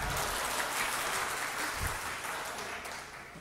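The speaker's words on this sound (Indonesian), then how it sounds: "Nah, kok ada yang tepuk tangan sih?" Audience clapping at an indoor public gathering, a soft continuous wash of many hands heard from a distance, fading slightly toward the end.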